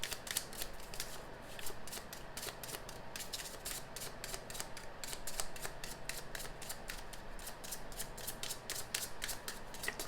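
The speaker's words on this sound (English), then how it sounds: "Let's do a couple more shuffles" Tarot cards are shuffled by hand in quick, crisp riffling flicks that repeat in a steady rhythm, close and quiet, with no talking.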